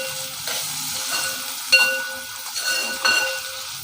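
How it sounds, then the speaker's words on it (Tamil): Onion and tomato sautéing in a pan, a moderate continuous sizzle broken by a few louder stirring scrapes and clatters, with no voices. "இப்போ இந்த வெங்காயத்தில் ஒரு அரைப்பழம் தக்காளி நான் கட் பண்ணி எடுத்திருக்கேன்"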